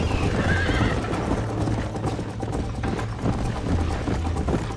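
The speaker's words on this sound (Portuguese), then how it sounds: "cavalo fraco" Horse hooves clip-clop steadily at a trot in Red Dead Redemption, close and continuous, with a brief whinny near the start and no talk.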